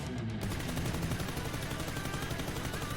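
Automatic spray fire from a crouching player in PUBG, a steady rapid stream of shots that runs continuously at even loudness from start to finish, with no voices.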